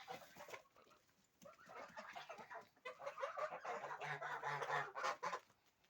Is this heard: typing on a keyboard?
no